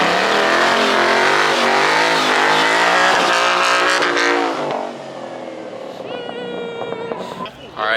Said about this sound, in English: how do you feel about your burnout, bro?